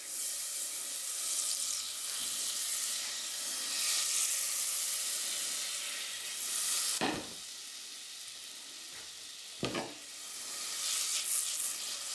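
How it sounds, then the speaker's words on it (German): Butter melts and sizzles in a pan, a steady close hiss that swells and eases, broken by two sharp clattering bursts, probably from stirring or the pan being moved. No talk. "dann kippen wir da die Butter drauf, lassen die einmal schmelzen."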